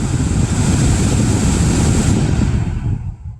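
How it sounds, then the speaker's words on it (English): A car's AC blower fan turned up to high gives a loud, steady broadband rush of air, close and continuous, then spins down and fades near the end. "we want to make sure that the blower motor resistor works. So we're going to turn it up"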